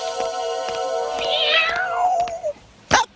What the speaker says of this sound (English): Cat in distress.